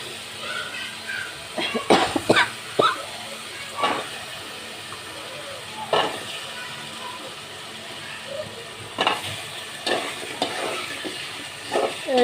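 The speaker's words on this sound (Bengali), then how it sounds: "কচুর মুখিটা কষিয়ে নিব" Taro stolons being sautéed in a pan alongside fried koi fish: intermittent stirring clatters and scrapes over a low, steady background sizzle, with no talking.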